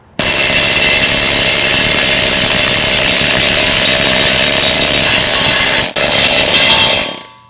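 A Chicago Pneumatic CP7125 pneumatic needle scaler knocking rust scale off steel and welds, a loud, continuous buzzing rattle of hammering needles running steadily for about seven seconds with one brief stutter before cutting off.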